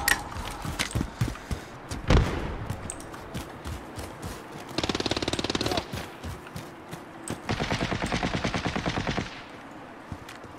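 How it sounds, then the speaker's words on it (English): Bursts of automatic gunfire from Call of Duty: Modern Warfare rattle in rapid strings alongside scattered single shots and thuds, loud and close, with two long sustained volleys near the middle and end. "I've missed both shots."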